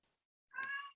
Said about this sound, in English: I apologize for my cat crying in the background.